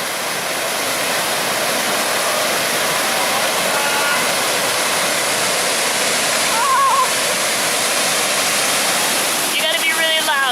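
A loud waterfall on the Izu Peninsula roars at close range, a dense, unbroken wash of crashing water that stays constant throughout, with a brief faint whistle-like tone partway through.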